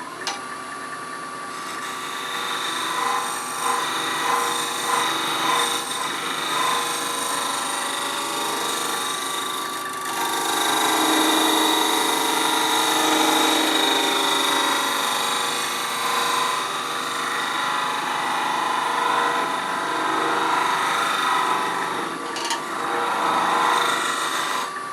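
Wood trimmed on a lathe while turning a pear shape from a block, a steady broadband scraping hiss with a whirring drone running continuously, loud and close without talk.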